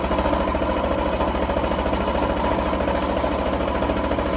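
A sewing machine back-stitching the channel of a drawstring bag, a loud, steady, even mechanical whir that runs without a break and carries no voices.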